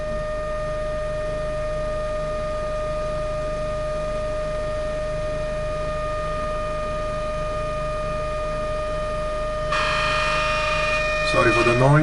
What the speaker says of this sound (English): Sorry for the noise, one of these cores is a little bit loose.